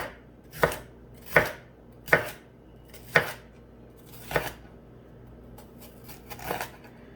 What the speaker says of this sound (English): I just cut it to the thickness that I want.